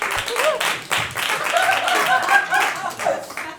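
A comedy club audience claps and whoops at a stand-up special, with patchy clapping, cheers and some laughter over a few seconds.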